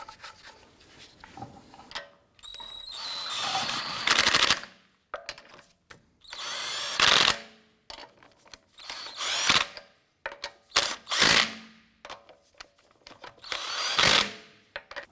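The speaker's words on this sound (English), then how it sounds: "Get our lug nuts all started by hand first, and then we'll snug those down." Wheel lug nuts on a 2004-2008 Acura TL are run down during a wheel install, making repeated short, loud power-tool bursts close by with brief gaps between them and no talking.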